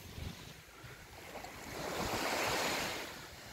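Waves come in at Xeraco beach on a rising tide, a continuous wash of surf that swells into a louder roll midway and then eases, with light wind noise.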